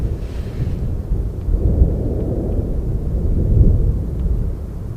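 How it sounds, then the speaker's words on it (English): Thunder rolls as a long, loud, deep rumble that swells and fades over several seconds, with no voices, under cloudy spring skies. "Yeah, thunder."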